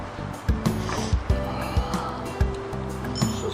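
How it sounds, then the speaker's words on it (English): Quick ratcheting clicks from a hand tool tightening bolts during assembly of a Mini Mamba 40cc dirt bike, in short bursts with pauses, close and moderately loud. "put the bolts in the plastic, put the front fender on, and make sure everything is tight."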